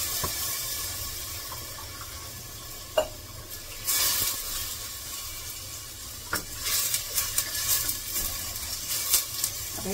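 Green chutney sizzles in hot tempering oil, a steady close frying hiss broken by spoon scrapes and clinks against the pan, with the crackling growing busier toward the end.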